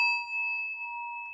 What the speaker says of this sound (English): I'm going to ring our bell.